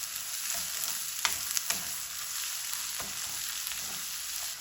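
Ginger garlic paste hisses and crackles in a hot pan while an apple gourd dish is cooked, giving a steady, bright frying sizzle with a few sharp pops and faint stirring scrapes throughout.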